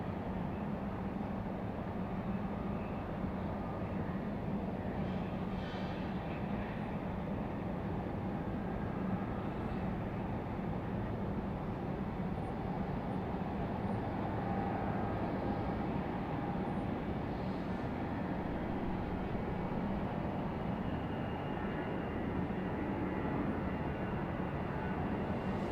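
An American CRJ 700 regional jet on the runway at Raleigh Durham International produces a steady, broad engine roar that holds at an even level throughout with no voices.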